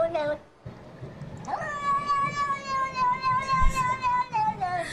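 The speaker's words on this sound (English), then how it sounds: "I got some cat sounds." Cat meowing sounds in the game Stray, a drawn-out, clear meow held for several seconds after a brief earlier cry, with quiet background noise underneath.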